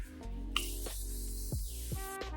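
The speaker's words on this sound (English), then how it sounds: "I love spraying the Morphe Continuous Setting Spray" A steady hiss of Morphe Continuous Setting Spray lasting about a second over quiet background music, with a faint click at the start.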